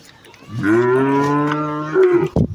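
A Holstein Friesian cow with four teeth lets out one long, loud, close moo lasting about two seconds, dipping briefly near the end, with no talk.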